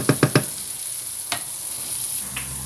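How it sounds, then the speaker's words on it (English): Vegetables fry for a pasta sauce while a utensil stirs them in the pan: three quick knocks, then a single scrape and a faint tap over a steady sizzle. "just continually stir the vegetables for a little bit"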